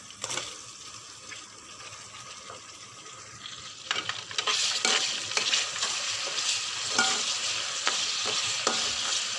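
Potatoes and peas are added to a pan with tomato and green chilli and stirred, starting as a quiet sizzle and then turning into louder, busier frying with scraping stir strokes.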